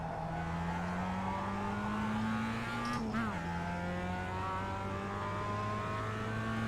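A race car engine in the iRacing sim holds a steady drone that climbs slowly, with a brief sharp gear-change blip partway through. It runs continuously at moderate level with no voices.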